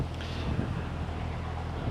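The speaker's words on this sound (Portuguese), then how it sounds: "Tá ventando bastante." Strong wind blows outdoors beside parked trucks, roaring steadily against the microphone in continuous low buffeting gusts, with no talk over it.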